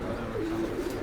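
Kachuri pigeons coo softly in a single short, low call against steady background noise.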